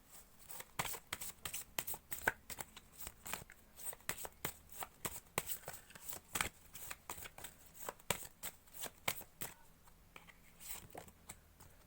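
A deck of tarot cards is shuffled by hand: a soft, continuous run of quick papery flicks and riffles, close and fairly quiet, with no speech.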